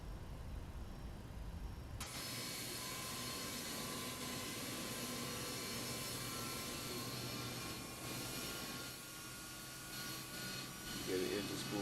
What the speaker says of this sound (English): Get the engine spooling up.